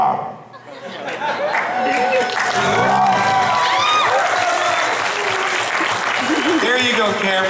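A convention panel audience breaks into sustained applause with cheering, laughter and crowd chatter, loud and full after a brief quieter start, with voices mixed in.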